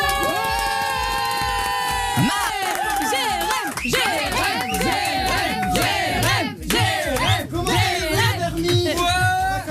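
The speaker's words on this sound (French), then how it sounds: "Applaudissements pour Jérém Star" A television studio audience shouts and cheers loudly for the guest Jérém Star's entrance on a night talk show, with whooping voices over a sustained musical backdrop.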